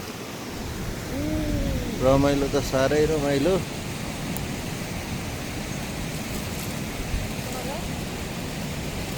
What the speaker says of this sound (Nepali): यतातिर झरना कराएको छ